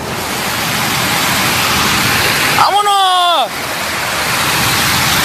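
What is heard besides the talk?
flooded Cuale river rushing through Puerto Vallarta streets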